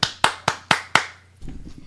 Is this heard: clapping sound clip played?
yes